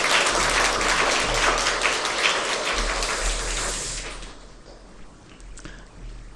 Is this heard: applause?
yes